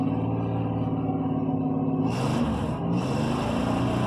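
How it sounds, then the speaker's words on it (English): A misfiring V6 engine in a 1994 Chevy Corsica runs close and steady with a rough, uneven drone, and a brighter hiss joins it about halfway through. "my car is misfiring because I've got some other issues with it"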